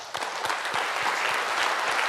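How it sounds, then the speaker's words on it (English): Steady, full applause from a conference audience after a talk on C++ programming, dense and even from start to finish with no talking over it. "Can we give them a round of applause?"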